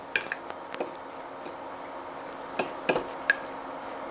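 Salsa with fresh lime juice being stirred in a bowl, a spoon clinking against the sides in scattered light taps and scrapes, close and fairly quiet with no talking.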